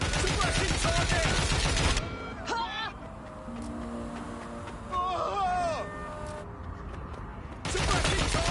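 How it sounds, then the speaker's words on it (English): Gunfire in the video game Watch Dogs Legion: dense bursts of rapid shots at the start and again at the end, with voices talking in between. "Gun! That was a gun!"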